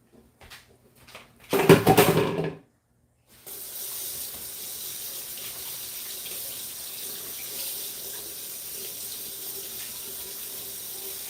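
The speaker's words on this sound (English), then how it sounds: "let me go wash my hands. I'll be back." Hands being washed under a running kitchen tap while cooking dinner, a brief loud splash of water followed by a pause, then a steady continuous stream of tap water hissing into the sink for several seconds.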